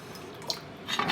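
A small splash of water goes into a cup while a Chinese roast is being prepared, giving a few faint, quick drips and trickles close by in a quiet kitchen.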